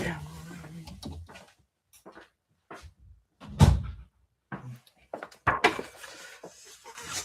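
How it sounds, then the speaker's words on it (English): A room door being pushed shut, giving one solid thud midway through, with softer knocks and handling sounds around it and brief voice fragments early on. "Realized I didn't close the door all the way and I was getting some roommate's noise."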